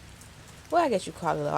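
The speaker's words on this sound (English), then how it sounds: "the rain is actually calming me." Steady rain patters in the background while a person speaks quietly over it.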